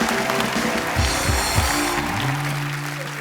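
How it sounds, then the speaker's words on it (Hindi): Audience applause for Jackie and Tiger at a live Hindi stage event, a steady, dense wash of clapping sustained throughout over faint music and a low rumble. "जोरदार तालियां जैकी और टाइगर के लिए।"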